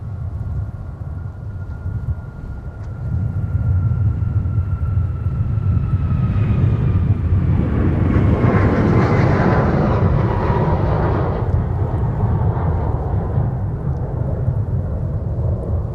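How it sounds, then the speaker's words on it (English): An American Airlines jet departs from the south parallel runway at MSP, bound for Dallas-Fort Worth. Its deep, continuous engine roar swells to full strength and holds as a loud, rumbling wash of noise. "American Airlines now departing off the south parallel runway for Dallas-Fort Worth."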